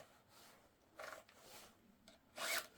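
A hand file rasps against a chainsaw chain being sharpened, faint close scraping strokes, a couple of them louder and brighter, with no talk over them.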